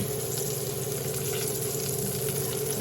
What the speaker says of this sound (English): I'm going to sear that a little bit on that side